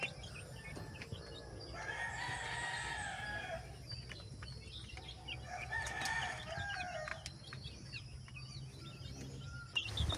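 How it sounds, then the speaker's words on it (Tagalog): One-month-old chicks of a golden boy sweater line in a brooder, cheeping and chirping faintly at close range, with louder bursts of peeping around the middle and low background hum. "ito po yung kaka 1 month old ko lang na mga sisiw na nasa brooder"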